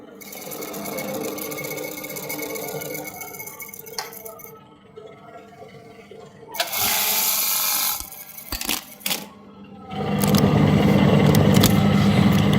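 Buttonhole sewing machine with an upper thread trimmer and open-close mechanism, run slowly in bursts: a steady mechanical whir, then louder harsh clattering passes broken by brief pauses and sharp clicks, close and loud.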